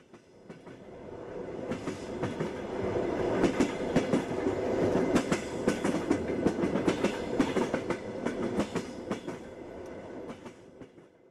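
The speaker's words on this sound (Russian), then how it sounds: "поезд останавливается на станции Иркутск" A train clatters and rumbles along the rails, rhythmic wheel clicks and bangs growing louder then easing as it slows to stop at Irkutsk station, close by and without voices.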